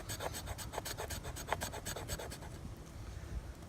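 The spine of a Woodlore-style bushcraft knife scraping shavings off a ferro rod, giving a quiet, steady run of rapid rasping strokes that stops partway through, leaving faint background hiss.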